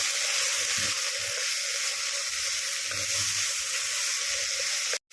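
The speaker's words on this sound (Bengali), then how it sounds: "এরপরে গুঁড়ো মশলাগুলোকে দিয়েও ভালো করে একটু নাড়াচাড়া করে নিলাম" Ground cumin, coriander and turmeric fry in oil with a steady, close hiss and sizzle, broken by faint stirring sounds, with no voices.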